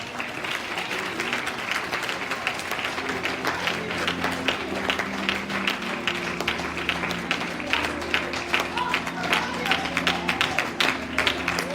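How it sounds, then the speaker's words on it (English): Congregation clapping hands during a church service, a steady dense patter of applause running throughout with music and voices beneath. "Clap your hands on them."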